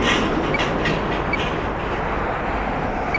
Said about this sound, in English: Getting a lot of traffic, a lot of noise.